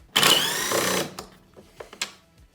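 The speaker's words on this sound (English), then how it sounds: "So we're going to remove the fasteners first." A power driver spins out a T40 fastener on a Polaris Indy EVO 550 snowmobile hood in one loud, steady whir of about a second. A few faint clicks and taps follow.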